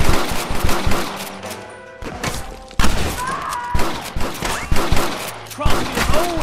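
A gunfire shootout in the video game Red Dead Redemption on PS3: loud, rapid bursts of shots and heavy thuds in close succession, with brief shouted voices mixed in.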